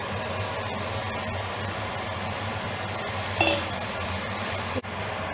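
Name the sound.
stirring kayanas with olive oil in a pan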